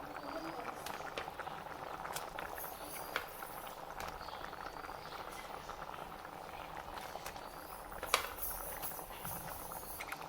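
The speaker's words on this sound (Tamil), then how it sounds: "தண்ணி நல்லா கொதித்த பிறகு மீன் சேர்த்துக்கலாம்" Water bubbles and simmers in a pot while a Tamil fish curry is being cooked, a steady close boiling hiss with occasional small pops and ticks throughout.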